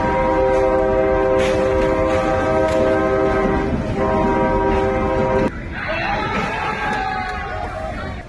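A train rolls past near a road crossing, its horn sounding loud and sustained for several seconds before cutting off, leaving rumbling wheels and clatter.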